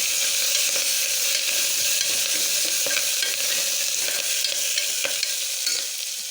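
Coriander, curry leaves and fenugreek seeds sizzle loudly in hot oil for mudda pappu. The hiss is steady, with faint stirring taps throughout and no speech.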